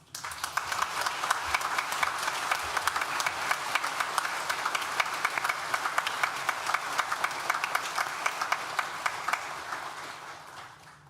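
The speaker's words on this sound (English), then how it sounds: "Please join me now in thanking them with a well-deserved round of applause." A graduation ceremony audience at NTU's School of Social Sciences in July 2022 claps in a dense, sustained round of applause lasting about ten seconds, with scattered sharper claps, before it tapers off.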